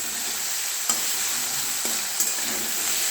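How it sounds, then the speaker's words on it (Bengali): Radish pieces frying in a pan, giving a steady, continuous sizzle throughout, close and moderately loud, with a couple of brief knocks from stirring. "মূলোগুলো ফ্রাই করছি। দেখো, মূলো ফ্রাই হচ্ছে এখন।"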